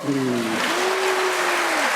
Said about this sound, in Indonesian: kita tepuk tangan dulu ya